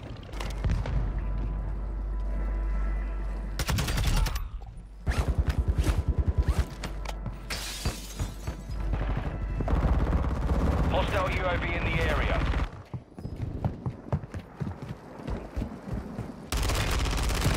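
Bursts of rapid gunfire erupt in a shooter video game, with repeated automatic volleys and sharp single shots in loud clusters, a player talking over the action between bursts.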